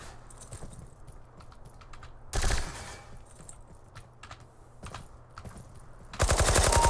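Video game gunfire on the SkillWarz Rivalry map. Scattered shots and faint rattles give way to two loud, dense automatic bursts, one short one in the middle and another sustained one at the end.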